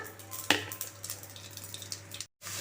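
Onions, ginger, garlic, green chilli and curry leaves sauté in a pan, giving a soft, steady sizzle with a few clinks of utensils against the pan and a brief sharp tap near the start, then a short silence.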